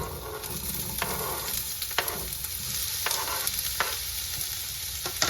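Onions sautéing in avocado oil in a preheated hot pan, a steady close sizzle broken by several sharp scraping stirs spaced about a second apart.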